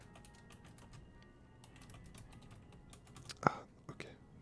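Fingers tap on a computer keyboard in quick, irregular bursts of soft clicks, close and quiet, with one louder knock or rustle toward the end.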